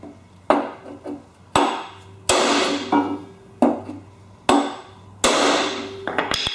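Hammer whacking a bent steel lawn mower deck propped on blocks, delivering about six loud, ringing metallic blows at irregular intervals, each trailing a short resonant decay.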